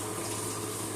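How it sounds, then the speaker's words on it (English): Tap water runs steadily and close into a kitchen sink as half a green pepper is rinsed, a continuous rushing stream with no talk. "Rinse real good."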